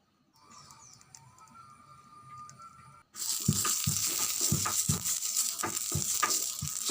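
Dosa batter, a soft fenugreek-seed dosa, hits ghee or oil on a hot griddle and breaks into a loud, steady sizzle after a quieter stretch of faint kitchen hiss, with scattered pops and scraping over the frying.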